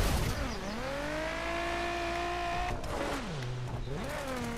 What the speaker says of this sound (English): I'm just like saying screw it and driving as off-road as I can